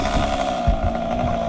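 A chainsaw runs steadily at a constant engine pitch, loud and close, with a brief thump partway through, in the middle of cutting a tree trunk.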